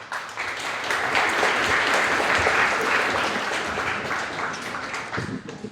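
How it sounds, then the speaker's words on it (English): Audience applause at a cybersecurity panel fills the whole stretch, a dense, steady clapping from a large room that begins to thin out at the very end. "Please give him a big round of applause."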